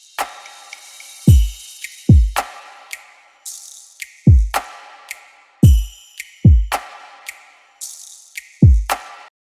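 A layered electronic percussion loop combines clave clicks, shaker rattles, a cymbal wash and deep booming hits, punching out a busy, repeating groove at strong volume with no voices.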